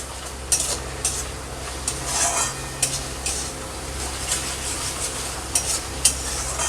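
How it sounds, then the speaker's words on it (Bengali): A spoon scrapes and stirs green chili paste masala in a frying pan, with steady sizzling and repeated sharp clinks against the metal, close and alone without talk. "কাঁচা লঙ্কা বাটাটা দিয়ে দেব, একটু নেড়ে কাঁচা গন্ধটা যাবে"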